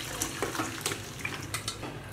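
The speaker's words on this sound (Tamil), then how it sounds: "இது தண்ணியை நல்லா வடிச்சிக்கிட்டு இருக்கட்டும்" Water drains off freshly boiled elephant foot yam in a home kitchen, with close, intermittent trickles, drips and small splashes and no voices.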